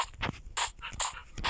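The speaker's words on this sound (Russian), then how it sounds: "Стой, собачка, стой, собачка." A dog in the video game Minecraft panting and whimpering, short close breathy huffs and whines repeating in quick bursts, no talk over them.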